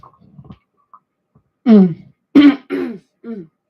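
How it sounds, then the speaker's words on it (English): A close, loud throat clearing followed by a few harsh coughs in quick succession, preceded by faint quiet sounds and otherwise near silence. "Keep coughing into the mic. I'm sorry about that."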